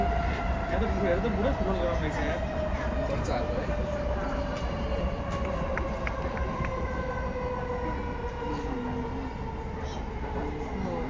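A train rumbles and rattles steadily from inside a carriage, with a long whistle-like tone and voices chatting noisily under the noise.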